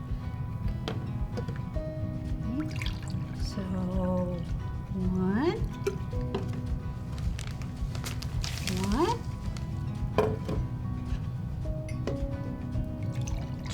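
Water pours into a measuring cup in a few short bursts with rising gurgles, heard close under steady talking throughout.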